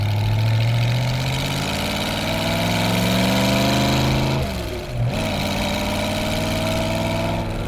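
A 1932 Ford hot rod with dual four-barrel carburetors idles close by with a deep, steady rumble and a throaty low burble, dipping briefly in the middle before settling back to an even idle.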